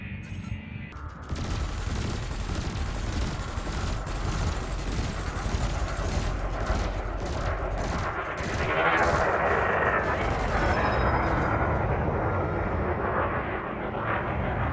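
Spaceship weapons firing in the space game Elite Dangerous Odyssey, a sustained roaring barrage of rapid shots over a loud engine hum, dense and close for most of the stretch.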